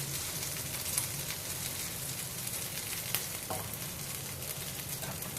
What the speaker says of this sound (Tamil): சுண்டல் செய்யும்போது முக்கியமாக கடுகு பொரியணும்